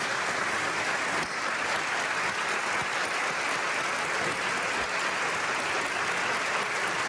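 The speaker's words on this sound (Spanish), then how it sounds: "Aplaudan de pie el fanatismo" Sustained, dense applause from a large audience at the 2021 opening of ordinary sessions of the Argentine Congress, an even wash of clapping with no pauses.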